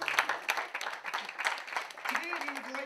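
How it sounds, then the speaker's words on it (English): An audience applauds at a student awards show in Glasgow, with bursts of clapping mixed in with a speaking voice throughout. "And you start clapping again."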